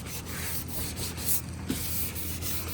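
Sandpaper rubs by hand across the underside of a Jeep hood being prepped for paint, a steady rasping scrape with quick back-and-forth strokes, close and fairly quiet.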